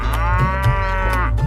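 A cow gives one long, loud, close moo that holds steady for over a second, with soft rhythmic backing sounds.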